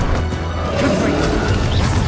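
A loud, crashing blast from the Confringo fire spell in the video game Hogwarts Legacy, with rumbling impact noise filling the short moment.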